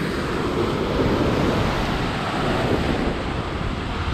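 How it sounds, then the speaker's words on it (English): Rough sea waves crash and surge against the rocks at Kola beach in Goa, a loud, continuous roar of surf mixed with gusty wind buffeting the microphone. "This is the Kola beach, and the waves are pretty rough."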